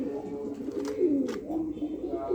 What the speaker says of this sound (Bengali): এখানে একজোড়া টাইগার লাক্ষা কবুতর আছে, আমেরিকান টাইগার লাক্ষা কবুতর, অনেক চমৎকার।